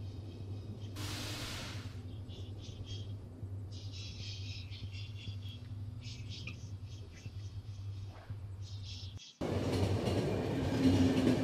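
A train in the video game The Final Station rumbles steadily throughout, with intermittent clanking and hissing bursts layered over the low drone, then a sudden louder surge of rushing noise near the end.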